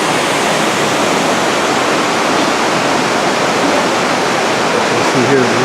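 Roaring river water with a waterfall among the Roswell mill ruins, a steady dense rush filling the whole clip, close and loud, with a low voice briefly audible near the end.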